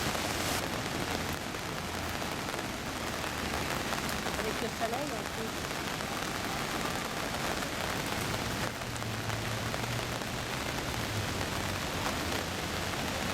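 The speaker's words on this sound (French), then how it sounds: "La pluie qui tombe toujours. Regardez-moi ça descendre du ciel." Steady rain falls around a boat in the Catskills, New York, a dense hiss of drops on surfaces that continues through the whole stretch while people talk over it.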